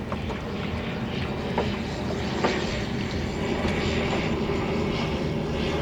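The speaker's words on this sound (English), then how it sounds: "an airplane flying overhead" An airplane passes overhead above an industrial waterway, a continuous low engine roar that holds steady and slightly swells, heard from a small rowing boat with no speech.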